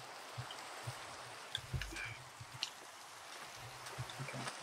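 Rain falling in Minecraft, a soft continuous patter with scattered drips and low taps, quiet and even, no talking.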